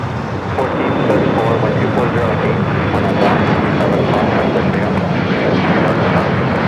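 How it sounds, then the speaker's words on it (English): An Aeromexico Boeing 737 MAX 9 jet arriving at LAX from Mexico City makes a loud, sustained broadband roar that swells early and then holds steady. Faint voices sit beneath the engine noise. "We do have an Aeromexico 737 MAX 9 coming from Mexico City, flight 646."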